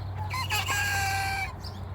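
A Barred Rock rooster crows once nearby, a short, strained cock-a-doodle call rising and then trailing off over a low steady background hum.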